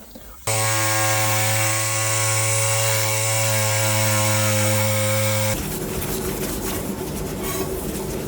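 Power tool profiling out a deep gouge on a 1968 Norton Commando part, a loud steady high-pitched motor whine that cuts off abruptly and gives way to a rougher grinding texture.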